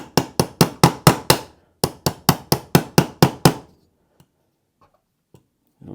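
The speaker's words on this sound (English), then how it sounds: "This trigger pin will slide right in there. Nylon side of the hammer." A nylon-faced hammer taps a trigger pin into a Glock 45 frame: two even runs of about seven crisp, close taps, then a few faint clicks in near silence.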